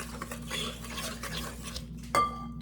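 Utensil scraping and clinking around a bowl while ingredients are stirred together for a homemade comfort-food dish, a steady busy clatter up close with a brighter knock near the end, no voices.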